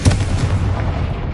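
The Confringo fire-blast spell exploding in Hogwarts Legacy: a loud, close, booming blast with a sharp onset and a heavy low-end rumble that lingers briefly.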